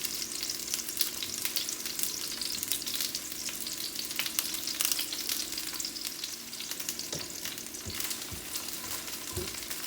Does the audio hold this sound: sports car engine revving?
no